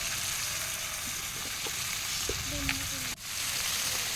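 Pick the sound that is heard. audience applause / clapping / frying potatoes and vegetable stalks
frying potatoes and vegetable stalks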